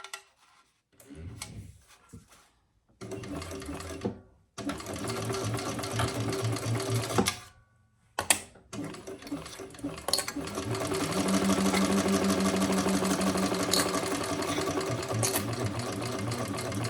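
A sewing machine stitches a skived leather crossbody bag in a few short bursts before settling into a long, steady whirring run, close and mechanical with rapid ticking needle strokes and brief pauses between passes.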